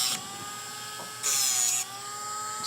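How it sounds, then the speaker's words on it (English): A small rotary sanding wheel grinds excess solder off a workpiece and squares up a hole, giving a high-pitched whine with two short bursts of harsher grinding and a steady motor hum between them. "I'm going to take this little sanding wheel here"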